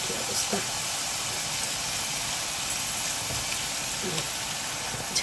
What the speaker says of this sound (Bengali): মশলাটাকেই ভালো করে একটু কষিয়ে নেব